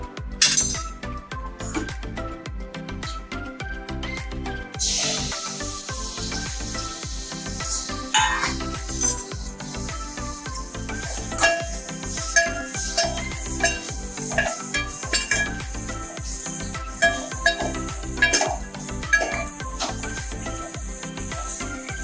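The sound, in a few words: mutton with turmeric and salt frying in hot oil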